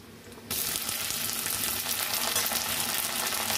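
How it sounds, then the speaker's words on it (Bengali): Onion, garlic and potato frying in a wok, a sudden loud sizzle that starts after half a second and then holds steady and close, with crackling and stirring scrapes. "এই কড়াইতে তো পেঁয়াজটা আমি ভাজা করে নিচ্ছি একটু একটু লাল লাল করে"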